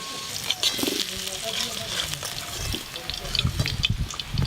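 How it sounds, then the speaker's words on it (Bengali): Farm-grown rice being rinsed in water in a rain-damp home kitchen, a steady wet swishing and splashing with scattered clinks, close and continuous, with some background voice sounds. "চালগুলো ধুয়ে নেব"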